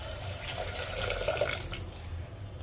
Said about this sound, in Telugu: నేను ఒక చెంబు వాటర్ పోసుకుంటున్నాను.